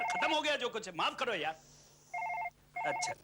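A landline telephone rings in an indoor scene of a Hindi horror drama, two short electronic ring bursts with a pause between, clear and fairly close, following a stretch of people talking.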